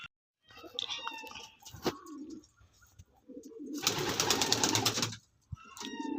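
Male Andra pigeons cooing close by in short, throaty bursts, with a longer rough flutter of sound midway and faint chirps around them.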